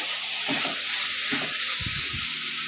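Peanuts roast in a pan under a steady, loud hiss, with a few soft stirring scrapes and rattles rising now and then.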